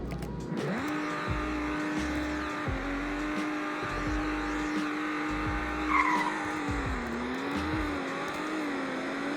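A BMW Z4 in a Roblox driving game accelerating hard, its engine note droning steadily and shifting pitch, with tire squeal and skidding noises breaking in throughout; no talking.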